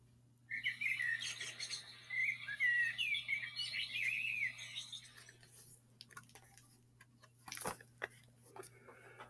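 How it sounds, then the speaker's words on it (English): High, rapid chirping and twittering from a baby bird sheltering in a nesting box, fairly close, in a busy burst for a few seconds before fading to quiet with a few faint clicks. "There's a baby bird sheltering in the nesting box. Listen to the sound it's making."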